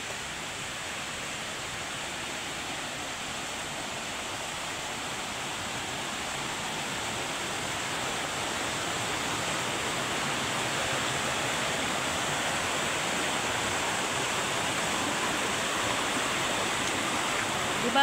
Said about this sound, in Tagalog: Ito yung sapa dito sa lugar na to.